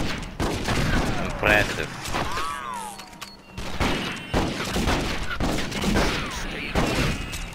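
Gunfire breaks out in the Western shooter video game Red Dead Revolver. Repeated loud shots and booms are mixed with game effects and character voices.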